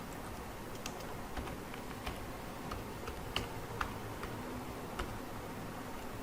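Someone types on a computer keyboard while filling in a salary slip spreadsheet: sparse, quiet, irregular key clicks with a few sharper taps over faint room hiss.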